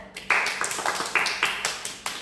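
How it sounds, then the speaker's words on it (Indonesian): Hands clapping in a small counseling group session, a handful of people applauding in a quick, uneven patter of sharp claps, fairly close and moderately loud, with no speech over it. "Wih, tepuk tangan."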